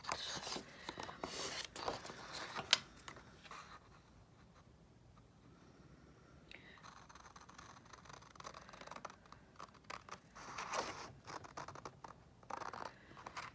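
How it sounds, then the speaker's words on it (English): Large scissors snip and crunch through printed paper ephemera in uneven bursts, close and fairly quiet, with a calmer stretch in the middle before the cutting picks up again. "I'm going to use my big scissors and cut these out"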